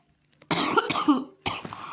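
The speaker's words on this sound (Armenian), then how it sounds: "ինչքան եմ հազում" Several harsh coughs from one person, a sharp burst then a second quick cough and a third after a short gap, close and fairly loud in a quiet setting.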